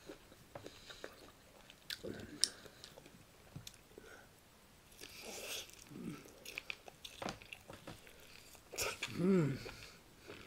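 Someone chews a bite of bacon cut from a block, with soft, close crunches and wet biting sounds under quiet, intermittent Japanese talk.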